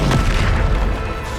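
A Bombarda spell explosion in Hogwarts Legacy during a combat trial, one loud, close, deep boom that fills the clip with a rumbling tail.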